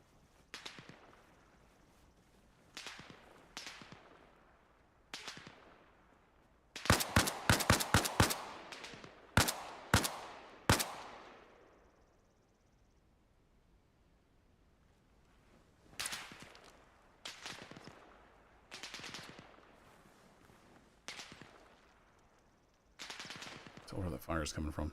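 Gunfire during a sawmill battle in ArmA Reforger: sharp single cracks and scattered shots, a tight flurry of rapid bursts near the middle, then more spaced reports and a closing volley, some close and loud, others more distant.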